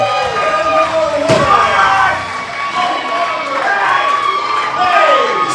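A wrestling crowd roars and cheers in an arena, rising and falling waves of shouting voices with a sharp slam-like impact early on and commentators talking over the noise.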